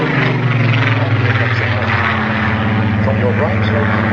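Supermarine Spitfire piston-engined warbirds flying past at an air display, a steady loud droning engine roar with strong low harmonic bands sustained throughout, an announcer's amplified voice faintly mixed beneath.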